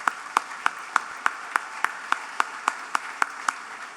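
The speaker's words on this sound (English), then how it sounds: "Please give them a round of applause." Clapping at an awards event, heard as slow, evenly spaced single claps about three per second, crisp and fairly close over a faint background of scattered applause.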